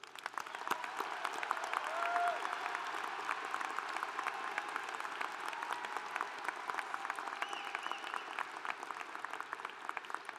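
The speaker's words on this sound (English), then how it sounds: "Please join me in showing our appreciation with a round of applause" A commencement audience gives graduates sustained applause in a large hall. Dense, even clapping continues at moderate volume for the full stretch, with faint crowd murmur under it.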